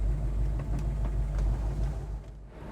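A 1971 Chevrolet Nova's engine rumbles low and steady from inside the car on a drive, a continuous throbbing hum with no voices.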